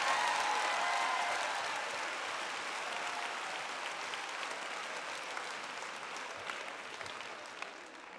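Sustained applause fills a hall during a sermon, loud at first and gradually tapering in level while the clapping stays dense and continuous.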